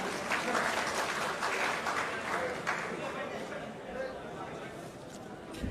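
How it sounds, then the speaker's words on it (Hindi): Sustained applause from an audience at a JDU political gathering for a Bhamashah Jayanti event, a dense, steady clapping that fills the hall and slowly eases off, with some crowd noise mixed in. "श्री श्याम बिहारी जी के लिए जोरदार ताली बजाइएगा"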